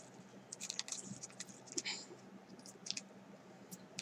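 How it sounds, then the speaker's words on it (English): Scissors snip a plastic bag into triangle shapes for handmade beads, giving short crisp clicks and rustles in uneven bursts, close and quiet. "so I can just cut it right down the middle"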